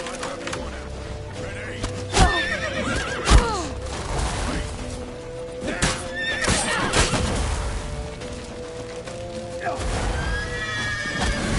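Horses whinny and neigh repeatedly in the video game The Witcher 3, amid thuds, rumbling and clattering action sounds, with shouting voices mixed in throughout.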